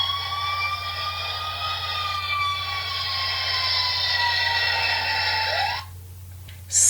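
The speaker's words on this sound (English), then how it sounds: "Sirens going off." Wailing sirens rise and fall in sweeping tones over a low engine rumble, then cut off abruptly near the end.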